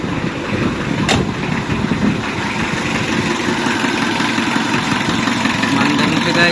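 A car engine, just back in service after a starter repair, runs at a steady, loud idle close by after a brief catch near the start. A voice talks faintly over the engine.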